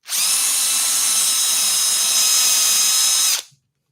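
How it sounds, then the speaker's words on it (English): A power drill whines at high pitch while boring into a wooden backing board on a woodworking bench, running steadily for over three seconds before cutting off abruptly. "I've got a backing board just to drill into, so I don't drill into my bench."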